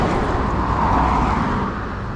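A car on a country road near a farm rushes past close by, a broad swelling whoosh of tyre and engine noise that peaks midway and then fades slightly.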